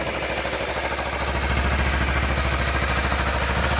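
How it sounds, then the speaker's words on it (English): Kawasaki Ninja 300 motorcycle engine idling after an oil change at 740 miles, a steady close low rumble with rapid even pulsing and light clatter, no talking. "now let the bike run for about 5 minutes"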